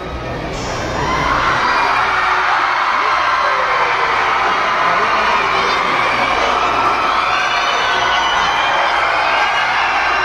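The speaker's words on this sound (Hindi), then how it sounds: "यहाँ इतना भीड़ किस लिए मेरे को तो समझ ही नहीं आ रहा कुछ" A dense, loud crowd roars continuously in a busy hall of the Salar Jung Museum, with many overlapping voices and children shouting that form a steady wall of noise.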